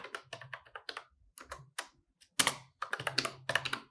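Code being typed on a computer keyboard, with rapid clusters of crisp, close keystrokes broken by brief pauses and a few heavier key presses.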